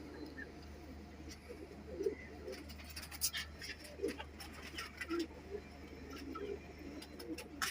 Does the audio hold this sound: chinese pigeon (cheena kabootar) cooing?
yes